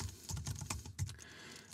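A computer keyboard clicks in a quick, uneven run of soft keystrokes as a name and email are typed, faint and close with no voices.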